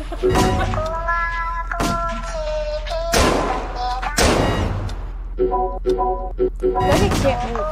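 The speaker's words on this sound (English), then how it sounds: "The gunshots are scary, right?" Several sharp, booming gunshots in the Roblox game Squid Games crack out at irregular intervals, with sustained electronic tones and vocal sounds in between.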